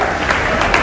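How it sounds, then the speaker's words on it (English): A brief burst of dense audience applause at a university symposium in Nsukka, Nigeria: loud, steady clapping filling the hall for under a second. "Please a round of applause."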